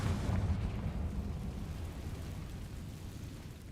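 Confringo fire-blast spell in Hogwarts Legacy: a single deep booming explosion that hits at once and then rumbles away over several seconds, alone and moderately loud.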